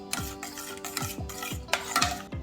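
A spoon stirs barbecue sauce and ketchup in a pot, scraping and clinking in steady strokes about twice per second, close up against a constant background of music.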